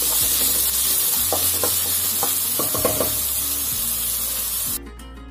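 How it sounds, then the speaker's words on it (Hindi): Finely chopped onions sizzle and crackle steadily in hot oil for egg bhurji, with a few stirring clinks partway through and a sudden drop in the sizzle near the end. "ऑयल हमारा फ्रेंड्स गर्म हो गया है अब मैं इसमें जो मैंने प्याज लिए थे वो बारीक बारीक मैं इसमें डाल देती हूँ"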